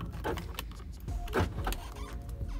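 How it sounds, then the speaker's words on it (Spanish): Nissan 350Z power door locks actuated from the inside switch: a few quick motorized clunks and whirs in the cabin, close and fairly quiet, with short pauses between them. "utilizamos el switch para cerrar los seguros"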